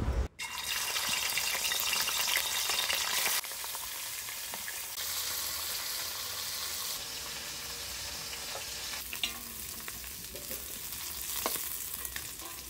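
Katla fish pieces fry in hot oil in a wok, making a loud, dense sizzle that starts sharply, stays strong throughout and eases only slightly, with occasional spatters near the end.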